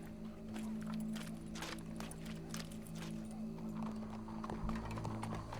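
Horse hooves clip-clop steadily in Red Dead Redemption 2, a faint, even trotting rhythm over a low steady hum, with no voices heard.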